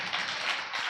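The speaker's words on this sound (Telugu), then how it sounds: "చప్పట్లు కొట్టండి గట్టిగా" Congregation clapping loudly during a Sunday worship service in Narasaraopet, a dense, steady wash of applause filling the hall without pause.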